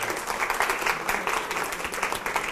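A group of teachers in a university coaching course claps for another group, a brisk burst of applause from a modest crowd, even and continuous across a couple of seconds.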